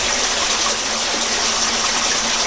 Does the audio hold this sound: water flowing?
yes